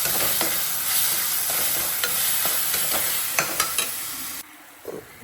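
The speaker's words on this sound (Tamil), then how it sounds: "இப்போ இது தக்காளியோடு நல்லா வதங்கட்டும்." Tomatoes sauté in a pan with salt and turmeric, giving a steady close sizzle under repeated scraping stirs of a utensil, then the sizzle drops away near the end, leaving a few soft clinks.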